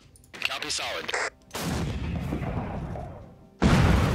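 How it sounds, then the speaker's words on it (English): Howitzer artillery rounds firing in a war video game set in Afghanistan, a loud sustained boom with rumbling tail, then a second heavy blast near the end. "Howitzer."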